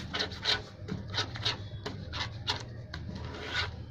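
A fingernail rubs and presses a crease into shirt fabric on the reverse side of a gents shirt collar, a run of repeated scratchy strokes in a steady rhythm, close and moderately loud with no talk.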